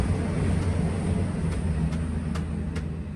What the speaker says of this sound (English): Hang on, train.